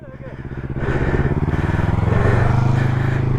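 Motorcycle engine as a beginner learns to ride in an open lot. The engine idles with a pulsing chug, then revs up and keeps running close by and loud with a steady rhythmic throb.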